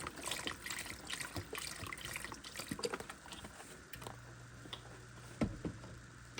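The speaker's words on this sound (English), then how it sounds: "I'm gonna pour about half a container of beef broth." Beef broth is poured from a container into a pot of taco soup, making a quiet, continuous liquid splash with a few light drips and clinks, close by and without speech.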